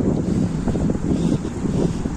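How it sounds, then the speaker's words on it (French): Steady, loud wind buffeting the microphone on a mountain hike near Lac de Gaube and the Vignemale, a continuous low roar with gusty fluctuations and no voices. "Mais le vent là il est glacial."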